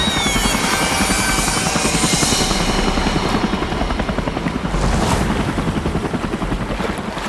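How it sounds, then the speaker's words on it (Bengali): A cartoon helicopter flies overhead with a loud, continuous rotor chop that holds steady the whole time, with no talk over it. "এখনই আমার হেলিকপ্টার ওই বাড়ির কাছে নিয়ে চলো।"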